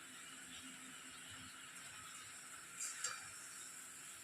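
Rohu fish simmering in a boiling yogurt gravy, a soft steady hiss and bubbling sizzle, faint and even, with a brief louder clink or splash near the end.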